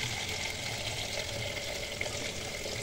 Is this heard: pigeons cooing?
no